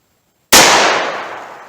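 A single gunshot from a lightweight 11-ounce J-frame revolver loaded with Buffalo Bore lead-free .38 Special, an abrupt loud crack out of silence followed by a bright ringing decay.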